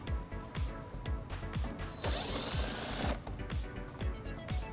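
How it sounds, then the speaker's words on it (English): An 8mm socket ratchet removing a screw on a 2015 BMW X5 bumper, giving a steady rapid ticking with rhythmic clicks and a brief hiss in the middle, close and fairly quiet. "it exposes this screw that we'll remove using an 8mm socket."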